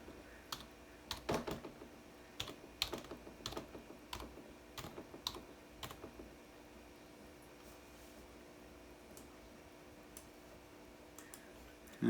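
A computer keyboard is typed on in quick bursts of crisp clicks through the first half, then goes quiet, leaving only a faint steady room hum.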